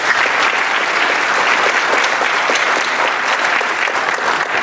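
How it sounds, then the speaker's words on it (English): Audience applause at a high school senior awards ceremony, a dense, steady wash of many hands clapping at close range that holds at full loudness for the whole stretch. "Give a round of applause again."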